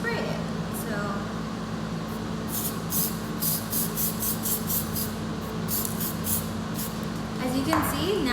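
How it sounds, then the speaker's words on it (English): Pink color spray misted onto chocolate-covered strawberries for a geode-style treat, a run of short hissing bursts over a steady background hum. "and I'm just going to spray it."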